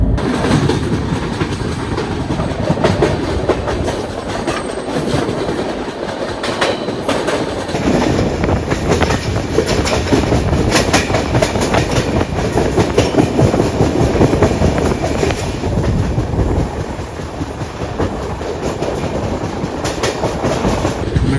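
Mumbai to Delhi Rajdhani Express, a push-pull train, running at speed, with loud continuous rumble and rhythmic clickety-clack of wheels over rail joints, heard close from on board and steady throughout with no speech.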